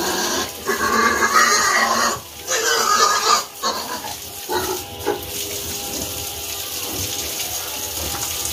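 Pigs on a farm grunt and squeal in their pens during cleaning with water, loud and close, with bursts of squealing broken by short pauses over a background of running water and rattling metal.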